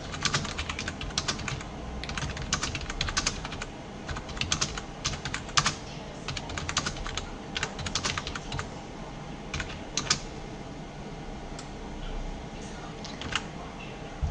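Steady typing on a computer keyboard while entering text in CorelDRAW X7, with close, irregular key clicks running continuously under low background noise and no talk.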